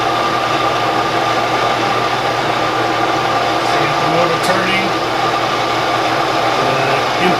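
A Van Norman No. 12 vertical/horizontal milling machine running, a loud, steady motor whir with a constant tonal hum and no pauses throughout.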